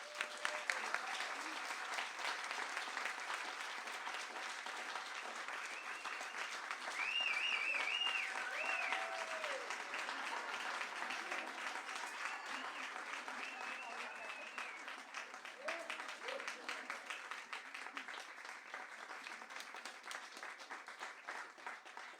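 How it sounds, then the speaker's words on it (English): An audience applauds steadily and at a distance in a small venue, a continuous wash of clapping that swells briefly midway and then holds at a moderate level until it tapers. "Let's please give them a warm round of applause."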